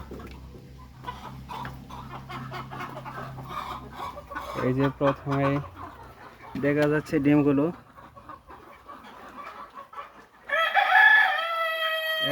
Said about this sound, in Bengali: এখন দেখব মুরগিগুলোর কি অবস্থা।